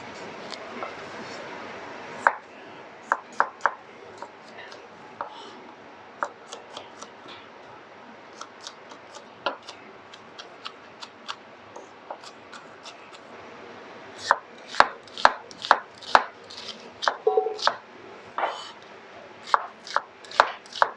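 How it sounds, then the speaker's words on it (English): Knife chopping coriander, spring onion, chili and garlic on a board for a Thai salad, a steady run of crisp close taps that quickens into faster, louder bursts later on, with no talking. "we slice coriander, spring onion, chili"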